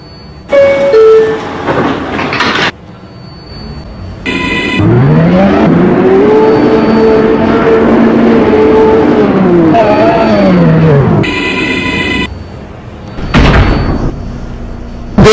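A New York City 6 local subway train to Pelham Bay Park rumbles loudly nearby with door chimes sounding twice, a squealing whine of the motors rising and falling as it moves off.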